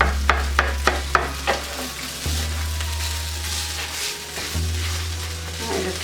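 Ground beef sizzles steadily in a pan on medium heat as a utensil breaks it up, with sharp scraping taps early on over a continuous frying hiss.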